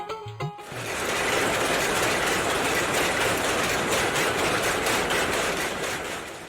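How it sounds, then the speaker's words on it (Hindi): Loud, continuous mechanical clatter with a fast rhythmic clacking, like many machines running together nearby in a neighbourhood of Manpur, Bihar, after a brief burst of other sound at the start. "मानपुर के इस मोहल्ले में घुसते ही आपको कर्णभेदी खट खटाखट की आवाज़ सुनाई देगी।"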